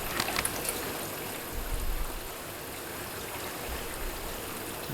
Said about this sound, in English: in a second or two, the water will stop coming into the machine